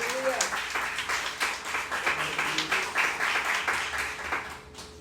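A church congregation applauding during a service, a sustained burst of many hands clapping together for several seconds, with voices sounding over it and the clapping tapering off at the end.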